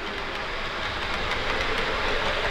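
A model railway locomotive with a new motor hauls two coaches and a dummy DMU, giving a continuous close running rumble with faint clicking wheels and no talk.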